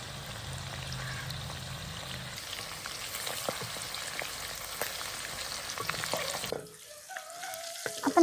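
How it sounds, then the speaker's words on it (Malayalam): Chicken pieces for a chicken pickle fry in well-heated oil, a dense, steady crackling sizzle that runs close and loud, then drops sharply near the end to a quieter bubbling with a few faint clinks. "ഇനി നമുക്ക് ഓരോ ചിക്കൻ പീസസ് ഇങ്ങനെ ഇട്ട് ഫ്രൈ ചെയ്തെടുക്കാം."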